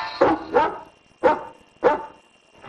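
A dog barks four times in separate loud, close bursts, with the last bark cut short at the end, in a room scene from a classic family TV series.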